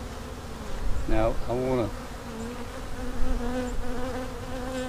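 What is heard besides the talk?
honey bees buzzing during hive transfer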